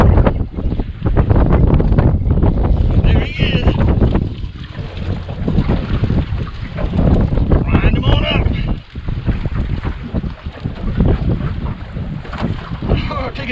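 Strong wind gusting across open water on a boat during offshore fishing off Jacksonville, Florida, roaring and buffeting the microphone continuously with lapping waves beneath and muffled voices talking.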